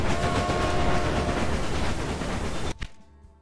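A train running in the railway management game Railway Empire, a steady broadband rumble of rolling stock that holds loud and even, then cuts off abruptly near the end, leaving faint background.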